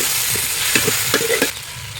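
Curry leaves hit hot oil for a turkey thokku cooked over a wood fire, a close, crackling sizzle with bursts of popping and spatter that settle toward the end.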